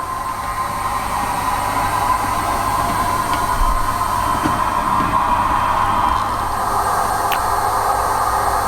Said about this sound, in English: My first electric loco.